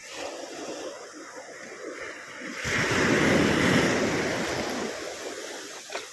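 Loud surf crashing close by on a beach at Morong, Bataan, a continuous roar of breaking waves that swells midway, with wind buffeting the microphone.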